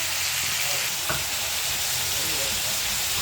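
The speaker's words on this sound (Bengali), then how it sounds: "দেখুন এটার মধ্যে এবার জাস্ট একটু ভাজা ভাজা হবে" Mixed vegetables for a Bengali chorchori with fish sizzle and crackle steadily in a hot pan, with a brief scrape of stirring partway through; no speech.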